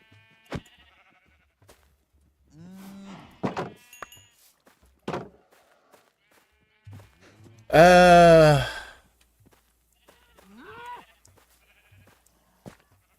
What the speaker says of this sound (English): All the sheep are now in.